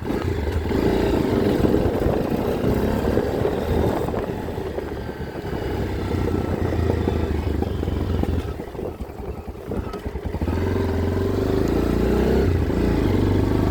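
A Tekken 250 motorcycle being ridden, its engine droning steadily and loudly throughout with brief dips and surges in revs, wind and road noise mixed in, no talk heard.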